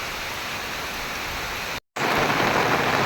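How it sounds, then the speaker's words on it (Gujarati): Heavy rain falls across farm fields as a loud, constant hiss that stays uniform throughout, interrupted only by a brief dropout. "આજ ફૂલ પાછો વરસાદ શરૂ થઈ ગયો છે"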